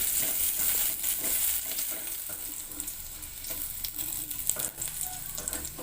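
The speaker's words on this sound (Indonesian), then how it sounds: "masukkan bawang putih, tumis hingga bawang putih menjadi kuning kecoklatan" Garlic sautés in a little cooking oil in a pot, a steady, close hiss and crackle of frying that continues throughout with no talking.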